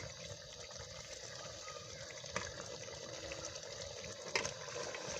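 Water poured into a cooking pot of meat and potatoes, with a steady hiss and gush running throughout, fairly faint, broken by a couple of brief clanks.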